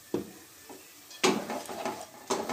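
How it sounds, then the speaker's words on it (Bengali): Ground tomato paste is added to frying kadai chicken in a kadai, setting off three sharp bursts of sizzling and spattering. Each burst fades quickly into quiet stirring. "এবার আমি এতে 2টো টমেটো বাটা দিয়ে দেবো।"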